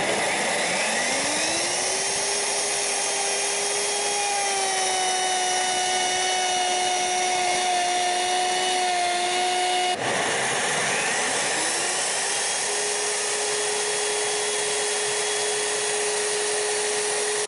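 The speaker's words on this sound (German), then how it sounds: "Mit der Oberfräse habe ich jetzt die komplette Kontur ausgefräst, 9 mm tief" A Bosch POF 1400 plunge router whines at a high steady pitch while cutting a 9 mm deep contour into composite boards, the motor note dipping and resettling, with a brief break before it resumes.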